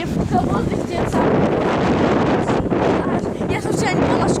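Strong wind in Scotland buffets the microphone continuously, a loud, rough roar that swells and dips without pause for several seconds.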